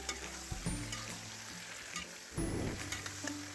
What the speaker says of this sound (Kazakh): етті салып, оны да қызарғанша әдемілеп қуырамыз